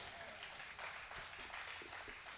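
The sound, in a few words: audience applause at Hindi poetry event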